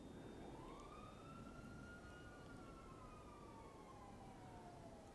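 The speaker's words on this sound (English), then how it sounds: "You guys can hear the default sirens in the background" Default police sirens from Grand Theft Auto 5 wail faintly in the background, a long rising-then-falling tone sweeping over steady low city rumble, distant and quiet.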